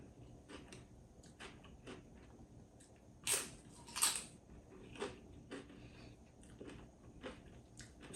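Someone eating a bowl of white chicken pozole with radishes and chili oil: close, quiet chewing with a couple of louder crunchy bites in the middle, spread over several seconds without talking.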